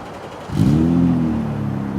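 A car engine revs up sharply and settles into a deep, steady exhaust rumble, close by and loud, with no talk.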